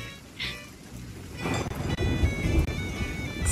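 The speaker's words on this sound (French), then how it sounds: "Il pleut comme vache qui pisse." Heavy rain pours in the Sea of Thieves pirate video game. A sharp thunder crack rolls out partway through, and a steady, dense downpour follows, loud and close.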